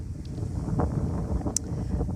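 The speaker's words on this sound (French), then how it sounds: "Il y a du vent, j'espère que vous m'entendez bien." Wind gusts buffet the microphone outdoors, a rough low rumble that swells and fades in short puffs, fairly loud, with no speech.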